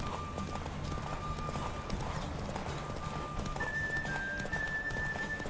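Roach, the horse in The Witcher 3: Wild Hunt, galloping with steady rapid hoofbeats and an occasional snort, over a continuous game music bed, no talking.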